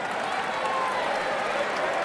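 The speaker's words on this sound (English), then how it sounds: "They'll tell by the crowd noise here in about 1 second." A college wrestling arena crowd at an Oklahoma State versus Northern Iowa dual reacts to a referee's no-takedown call, a brief, steady wash of distant cheering and murmuring with scattered applause.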